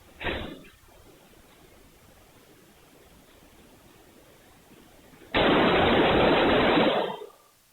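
Rifle gunfire in a school hallway, picked up by a surveillance camera: one short loud burst, then a longer sustained loud roar of shots about five seconds later, harsh and band-limited, with quiet room hiss between.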